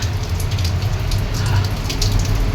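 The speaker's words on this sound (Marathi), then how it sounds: "धुवाधार पाऊस चालू आहे सकाळपासून" Heavy monsoon rain pours steadily in the early morning, a dense even hiss of drops on surfaces with a low rumble underneath, continuous and fairly close.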